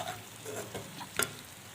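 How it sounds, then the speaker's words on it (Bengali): Fried potatoes are sautéed with spice masala in a pan, giving a short burst of soft sizzling and scraping strokes with one sharper clink near the end. "ভেজে রাখা আলুগুলোকে দিয়ে আর একটু ভালো করে কষিয়ে নেব 1 থেকে 2 মিনিট"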